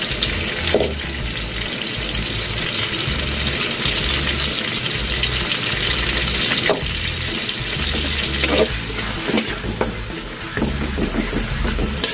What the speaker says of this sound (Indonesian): minyaknya udah panas, kita masukkan